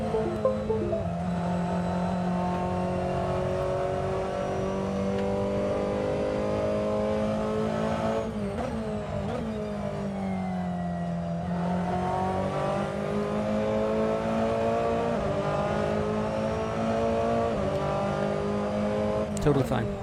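Race car engine in an ARCIS Six Hours at the Glen racing game revving as the throttle pedal is pressed, rising and falling through sustained whining pulls, loud and close, with someone talking over it.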